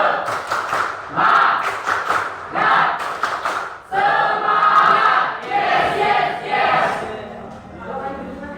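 A group of children in a classroom perform a rhythmic spirit clap chant, with bursts of patterned claps and thumps alongside voices chanting together, close and lively.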